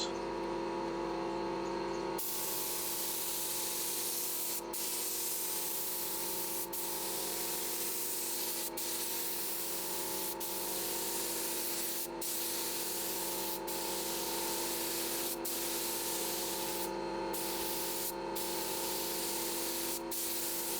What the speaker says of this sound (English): You'll notice it's going on a bit thicker. This is the proper wet coat, the final coat.